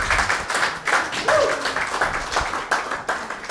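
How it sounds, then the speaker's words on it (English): Audience clapping at a fathering course graduation ceremony in Wollongong, a brief moderate round of applause from a small crowd, fairly close and steady. "Give him a clap as they sit down."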